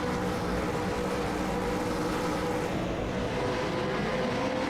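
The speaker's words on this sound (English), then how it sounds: "But the revs rise. Ready for the start." V8 race car engines in the iRacing V8 America's Series at Mosport rev up together at the race start, a dense, loud, continuous roar from the full grid without talk.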